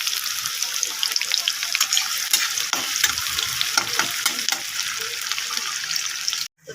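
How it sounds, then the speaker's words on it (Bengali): Onions fry in oil in a pan and are stirred, producing a loud, dense sizzle with scraping stir sounds throughout that cuts off abruptly near the end. "আমি তেল নিয়ে নিয়েছি। পেঁয়াজটা ছেড়ে দিলাম"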